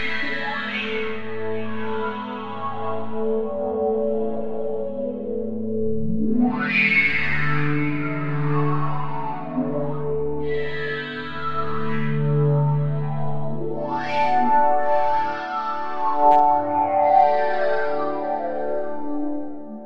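A motion-category preset called Evolution on the AIR MPC virtual instrument plays as an evolving synth soundscape, with slow swelling sweeps and rich layered tones that keep rising and fading across the passage, loud and continuous with no voices.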